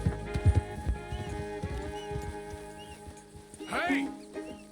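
Horse hooves in Red Dead Redemption 2, a few soft clip-clops early on mixed with game ambience and quiet voices, followed by a brief whinny-like cry near the end.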